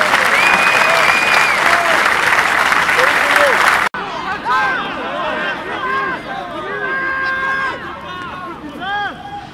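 Crowd applause at a rugby derby before kickoff, dense loud clapping that cuts off abruptly and gives way to lively crowd noise with whistles and cheering.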